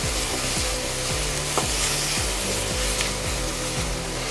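Onions frying in a pan with salt added, stirred with regular scraping strokes roughly every half second over a steady close sizzle, with no talking.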